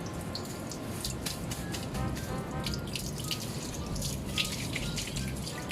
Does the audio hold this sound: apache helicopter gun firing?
no